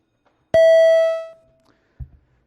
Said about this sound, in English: Can we ring the bells, Madam Secretary, as well?